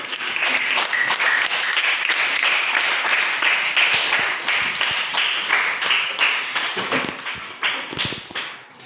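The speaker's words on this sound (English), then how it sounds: "Clap for yourself." Students in a classroom clap for themselves, a lively burst of many sharp, close hand claps with a quick uneven rhythm that holds for several seconds, then thins into scattered individual claps near the end.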